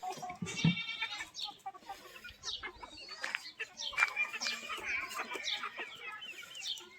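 Desi hens on a village farm cluck and call while drinking deworming water. Several soft, scattered clucks and squawks come from close by over a quiet background, with occasional other farm animal sounds.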